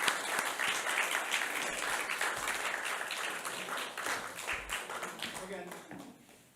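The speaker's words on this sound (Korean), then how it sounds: "여러분 박수로 환영해 주시기 바랍니다." An audience in a Christian lecture hall applauds to welcome a philosophy professor, dense clapping that slowly fades toward the end, with faint voices underneath.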